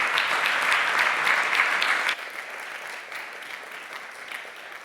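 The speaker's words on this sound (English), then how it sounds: "A round of applause." An audience at a Belarus future forum in Berlin breaks into loud, dense applause that drops abruptly after about two seconds to quieter, lingering clapping.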